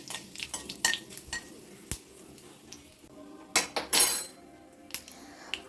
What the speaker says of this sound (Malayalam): ഉലുവയും കടുവും ഒന്ന് മൂക്കട്ടെ.